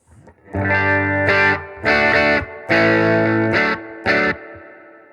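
Clean electric guitar through an amp with treble at 5.5, bass at 4 and reverb around 3, played as a few sustained chords in separate bursts, each ringing with a light reverb tail before the next.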